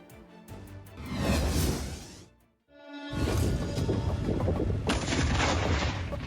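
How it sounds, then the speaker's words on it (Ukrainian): Two heavy booming blasts of a North Korean 140 mm M182 mortar firing on a range, each with a rumbling tail, the second followed by a sustained roar and high whine. "окупанти тренуються стріляти з рідкісного міномета М182"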